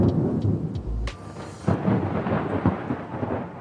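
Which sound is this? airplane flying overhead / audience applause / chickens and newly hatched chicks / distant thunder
distant thunder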